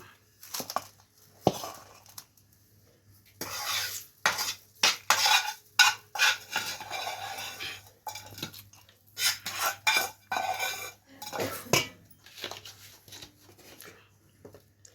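A spoon stirs and mixes rice in a pot, making intermittent close scraping and clinking bursts separated by short pauses.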